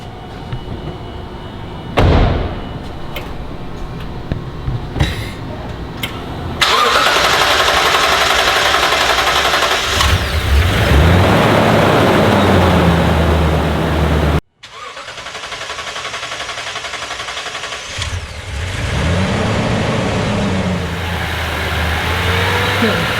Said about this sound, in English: We are going to do our first fire up.